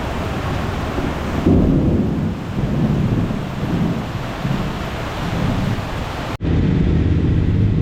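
Heavy rain pours steadily with a deep rolling rumble of thunder underneath during a motorcycle ride, loud and continuous, broken by a brief sudden drop near the end.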